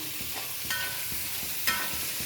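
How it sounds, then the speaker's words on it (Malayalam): Tomatoes are sautéed and stirred in a traditional pan, with a soft continuous sizzle under rhythmic scraping strokes about every half second and two brighter utensil knocks against the rim. "അതിനുശേഷം നമ്മൾ തക്കാളിയും ഇട്ട് നല്ലതുപോലെ യോജിപ്പിച്ച് നല്ലതുപോലെ അത് വഴറ്റിയെടുക്കണം"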